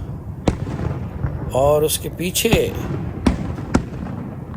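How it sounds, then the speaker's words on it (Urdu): A fireworks display at Niagara Falls gives out scattered sharp pops and cracks, with a short whistling burst in the middle. Someone talks throughout, over the outdoor background noise. "تو یہ جو آتش بازی"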